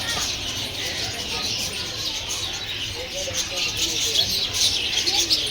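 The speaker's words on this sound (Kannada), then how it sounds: "ವೈಟ್ ಡವ್ ಅಂತ ಇದೆ ಹೆಸರು." A white dove in a zoo bird enclosure coos softly amid steady chirping from other birds, heard under ongoing talk and a busy background hum.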